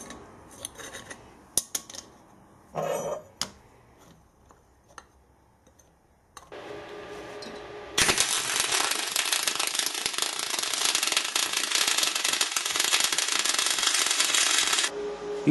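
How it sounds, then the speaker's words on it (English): A steady, loud crackling hiss of an R-Tech Pro-MIG250-1 welder MIG welding a 3mm aluminium T-joint runs unbroken for several seconds, preceded by scattered clicks and handling noises. "That's a decent weld."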